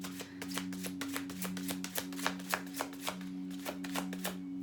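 An Angel Michael tarot deck shuffled by hand, a rapid run of crisp card riffles and snaps in a steady rhythm, close and fairly quiet with no talking.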